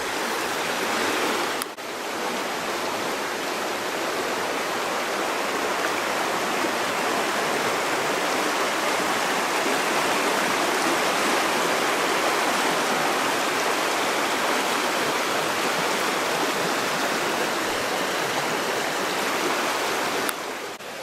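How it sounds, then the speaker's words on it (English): A fast river too high to cross easily rushes loudly and without a break for about twenty seconds, a close, full roar of water with a faint click near the start and no speech. "I'm trying to figure out how to get across this river."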